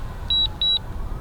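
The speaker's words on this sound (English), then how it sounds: "you can shut off that beeping by pressing the power button real quick" A DJI Mavic Mini drone controller beeping during return to home: two clean, high electronic beeps in quick succession, each lasting a fraction of a second, close and clear over a quiet background.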